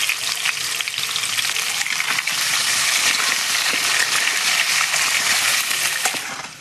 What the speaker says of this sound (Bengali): আলুগুলো কিন্তু লাল লাল করে ভেজে নিতে হবে খুব সুন্দর করে